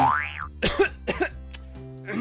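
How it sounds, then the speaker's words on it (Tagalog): Animated comedy skit at a doctor's visit: a rising cartoon boing, then several harsh close coughs in quick succession, with voices and music-like tones underneath. "Pero bakit parang matagal na yung ubo mo?"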